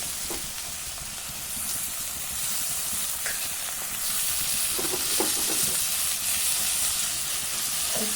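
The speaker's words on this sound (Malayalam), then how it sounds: "നമുക്കിതിലേക്ക് തക്കാളി ഒന്ന് ഇട്ട് കൊടുക്കാം." Tomatoes tipped into a hot pan of sautéed ingredients, frying with a steady broad sizzle and hiss that swells slightly after the first seconds, with a few soft stirring clinks and scrapes near the middle.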